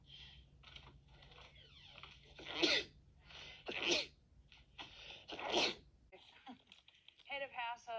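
A person sneezing indoors during a meal, with several sharp sneezes in quick succession, close and fairly loud, and talking around them.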